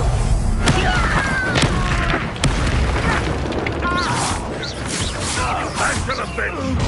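Booming Confringo spell blasts in the Hogwarts Legacy video game hit repeatedly amid loud battle noise, with voices talking and shouting over the fighting.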